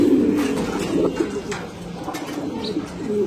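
Racing pigeons cooing in a loft, soft repeated throaty coos overlapping close by, with faint voices in the background.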